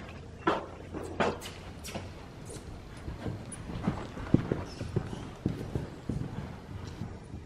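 During a riding lesson a horse canters on, its hoofbeats thudding in an uneven three-beat rhythm, moderately near, with soft background noise.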